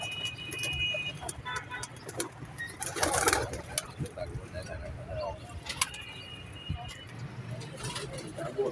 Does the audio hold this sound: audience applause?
no